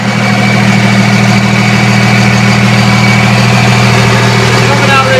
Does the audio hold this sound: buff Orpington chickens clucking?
no